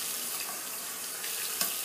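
Running water splashes steadily over a small shaving brush as it is rinsed at a sink, a continuous close hiss with a brief louder splash near the end.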